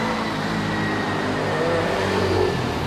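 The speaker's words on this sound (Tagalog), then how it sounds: "ito pala yung gagamitin natin ngayong motor" A motorcycle engine runs steadily with a mid-pitched hum and slight revving, close and continuous, with no talk over it.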